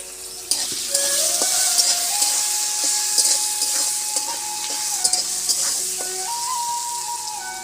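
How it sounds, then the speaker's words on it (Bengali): Potatoes frying in hot oil in a pan with bay leaves, a steady loud sizzle with intermittent scraping and clinking of a spatula stirring, no talk. "চাল আলুগুলো দিয়ে ভালো করে ভেজে নেব"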